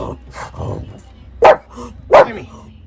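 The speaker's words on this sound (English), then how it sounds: "What are you barking at?" A dog gives two sharp, loud barks spaced about a second apart, with quieter vocal sounds and soft talking before them.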